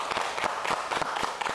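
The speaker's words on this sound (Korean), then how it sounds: "여러분 박수로 맞아주십시오" A television studio audience gives a professor a warm welcome with moderate, evenly spread clapping, quiet and steady throughout with individual claps faintly distinct.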